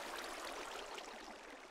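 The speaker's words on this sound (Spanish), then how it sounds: "Esta pequeña cascada que tengo aquí la hice para que recoja todas las galletas que van cayendo" A small waterfall in a video game keeps flowing as a steady, soft broadband rush of water, with no voices over it.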